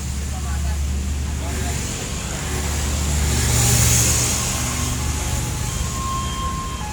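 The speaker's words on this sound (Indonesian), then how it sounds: "Jetbus 5 SHD bertujuan Jakarta Bojonegoro menggunakan sasis Hino RM 280" Jetbus 5 SHD coach on a Hino RM 280 chassis idling and manoeuvring at a roadside agent near the new Cengkareng bridge in West Jakarta, a steady low engine rumble with a slight swell midway amid street traffic.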